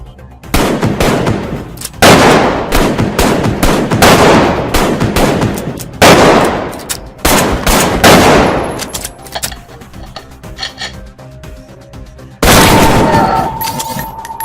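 Heavy gunfire in a shooter video game, with loud sustained bursts of automatic fire and sniper shots in overlapping waves, dense and close, almost continuous throughout.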